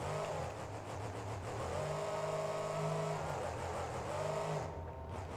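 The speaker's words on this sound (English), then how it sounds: "he's just going to keep on that throttle" El Toro Loco, a monster truck in the BeamNG.drive video game, roars with a loud engine held on the throttle, its pitch climbing and dipping in sustained revs, then thinning out near the end.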